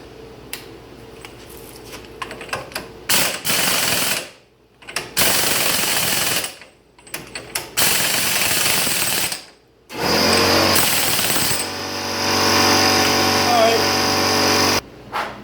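Impact wrench driving a 30mm wheel hub nut onto a Saturn Ion, loud rattling hammer bursts that start and stop repeatedly, with brief quiet gaps between runs and a longer final burst.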